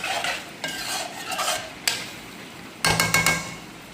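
Potato curry (aloo ki tarkari) with fresh coriander and mint is stirred in a pan: close spoon scrapes and knocks against the metal come in short bursts over a light sizzle, ending in a quick run of sharp clinks.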